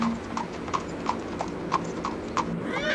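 A horse pulling a cart clip-clops slowly along a road, hooves landing in an even, unhurried rhythm of about three steps per second, clear and fairly close, with no talking over them.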